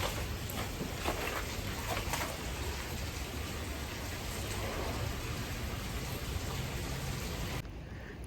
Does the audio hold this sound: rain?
yes